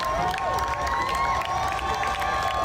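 A crowd at a Fourth of July parade in Bloomington, Indiana cheers, whoops and applauds for a troupe of martial artists, with children's shouts mixed into a dense, continuous outdoor roar.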